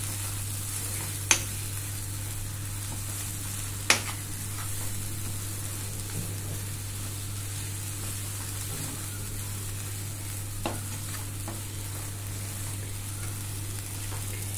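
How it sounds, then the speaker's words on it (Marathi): Kolhapuri tambda rassa masala sautéing in hot oil, a steady soft sizzle running throughout with a few sharp clinks of a spoon against the pan, no voices. "हा तेल सुटेपर्यंत आपण आपल्याला हा परतवायचा आहे."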